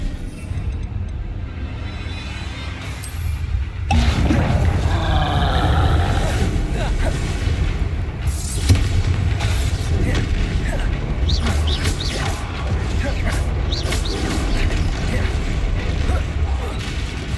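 Explosive Confringo and Bombarda spells are cast again and again in a Harry Potter-style game battle: dense, continuous blasts and crackling impacts that swell sharply after a quieter start, with shouting voices mixed in.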